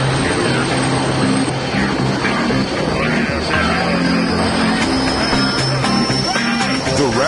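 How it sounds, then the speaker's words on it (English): A Sikorsky S-58 helicopter fires up its engine, a loud, continuous, close roar with a whining, throbbing drone that holds steady throughout, without audible talk. "With Adam set for his virgin chopper ride, the big dog, or Sikorsky S-58, fires up."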